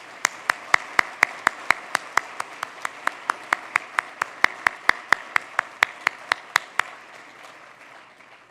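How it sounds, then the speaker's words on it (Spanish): Sharp, evenly spaced hand claps ring out at a convention closing, a rhythmic run of loud single claps for about seven seconds before fading into quiet. "les pido que aplaudamos a todos nuestros colaboradores de la industria"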